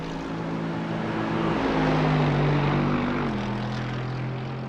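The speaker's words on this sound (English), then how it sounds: "Love the sound of those cars." Race car engines in the iRacing simulator at Summit Point, a steady droning engine tone that holds, then shifts down to a lower pitch midway, continuous and fairly loud throughout with no talk.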